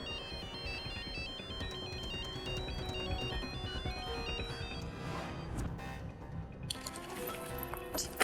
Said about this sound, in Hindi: अमित का फोन